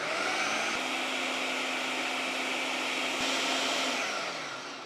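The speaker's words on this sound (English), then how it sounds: "let's get this blended up so we have a nice mixture" A countertop blender whirs steadily at high speed through an appetizer mixture, a loud continuous roar that holds for several seconds before easing slightly at the end.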